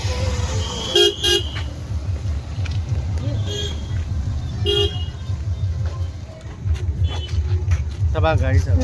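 Cars and other vehicles pass along a crowded hill road at a picnic spot in Morigaon, with a continuous low engine rumble and several short horn toots, while people talk nearby.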